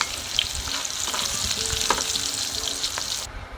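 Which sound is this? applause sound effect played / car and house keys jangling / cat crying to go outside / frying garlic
frying garlic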